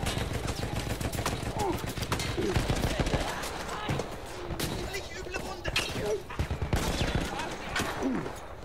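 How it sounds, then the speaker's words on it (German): Rapid bursts of close gunfire from the Battlefield 1 battlefield crackle almost without pause, mixing machine-gun rattles with single heavy shots and impacts, loud and dense throughout. "der schießt voll auf mich runter"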